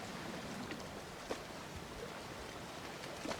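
Calm sea water laps at the shore on Corfu, a low continuous wash broken by a few light splashes, close by and free of voices.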